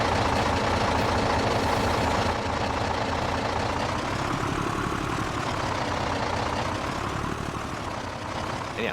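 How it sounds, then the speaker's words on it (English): A loud truck engine in Farming Simulator 22 drones in a heavy, continuous rumble, close and steady throughout, with a slight rise and fall in pitch and no speech. "that truck is loud"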